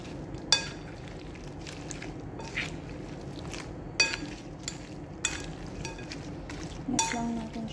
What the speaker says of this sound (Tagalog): Mix lang natin siya hanggang sa mag-combine yung mga nilagay natin.